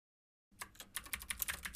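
Computer keyboard keys pressed in a quick irregular run of light clicks, close and quiet, starting after half a second of silence with no talking.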